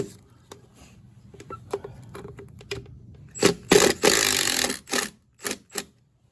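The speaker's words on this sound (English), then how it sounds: "Now I will drill through it." A power drill bores through aluminum while a Humminbird HELIX 7 depth finder is installed, running in several short, loud, close bursts after a quieter stretch of light handling noises.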